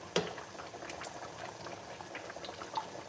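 Stock for okra soup with kpomo and chicken bubbles at a boil as it reduces in a pot, a close, steady simmer of irregular pops and gurgles with no voices.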